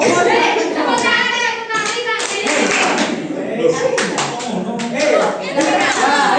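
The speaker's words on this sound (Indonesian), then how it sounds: "Tepuk tangan nih om." A group claps hands together in a classroom learning activity, bursts of clapping and taps mixed with children's voices and talking throughout.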